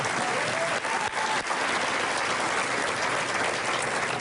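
Sustained audience applause with some cheering fills a large hall at an award ceremony, a dense, steady roar of clapping that holds throughout, with no speech over it.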